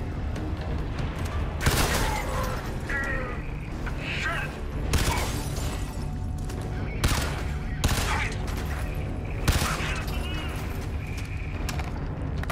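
Rapid gunfire bursts in the Crysis 3 Remastered video game, recurring every couple of seconds over a dense, loud bed of game sound, with someone talking in between.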